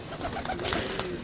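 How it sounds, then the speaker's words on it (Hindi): Prized, rare-breed pigeons coo softly and steadily at close range, with faint bird rustling and no talking. "बहुत अच्छे नायाब कबूतर हैं"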